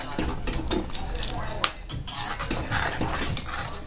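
Spoon stirring peas into butter paneer curry in a pan, close scraping and clinking strokes with occasional sharp metal taps, under a voice talking.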